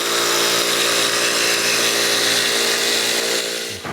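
On a 1941 Mercury with a chopped top, a power tool cuts off a piece of steel, grinding loudly and continuously at close range before winding down abruptly at the end.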